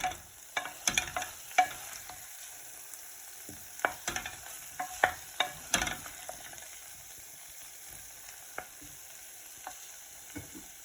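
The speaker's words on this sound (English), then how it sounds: "open the lid and give the mixture a good stir" Potato curry mixture stirred in a pan with a spoon, scattered scraping clinks and soft sizzling of cooking potatoes, close and fairly quiet, with no talk.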